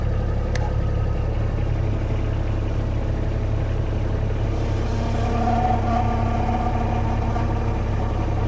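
Kubota-powered CFG JK35 skid steer loader with a broken system, its diesel running steadily while the bucket curls, the hydraulics adding a choppy, labored strain and a rising whine partway through.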